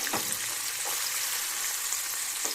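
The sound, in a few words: tempering spices and onions frying in oil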